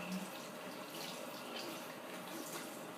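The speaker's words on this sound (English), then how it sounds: "And we're going to rinse your hair out here." Running water pours steadily during a gentle hair wash, a soft continuous hiss and splash with no break, close and even throughout.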